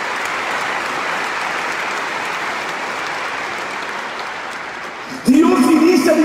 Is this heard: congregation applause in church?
yes